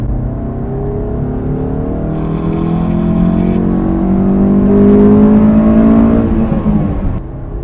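A Honda S2000 with its airbox lid off pulls hard at full throttle in third gear from about 3,000 RPM, its steady engine note climbing in pitch and swelling louder over several seconds before easing off near the end.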